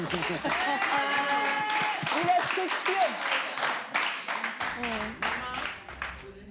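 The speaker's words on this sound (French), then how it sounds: "Applaudissez pour moi." An audience on a French-language talk show claps in bursts of scattered, moderately loud hand claps, with someone talking over and between them.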